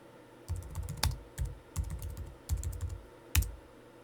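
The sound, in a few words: typing commands on a computer keyboard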